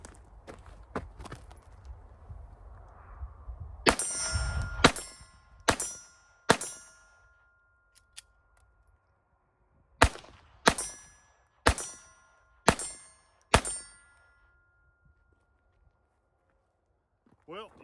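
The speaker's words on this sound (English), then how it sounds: "we're gonna dump one more mag with this and see how it does" Walther PPK/S .22 LR pistol shots fired at a steel target, about ten sharp cracks with ringing metallic pings, spaced roughly a second apart in two groups, fairly near, with some handling noise early on.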